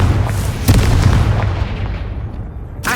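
A Confringo blasting spell explodes in Hogwarts Legacy, a loud, deep boom that rumbles and fades, followed by a sharp burst at the very end.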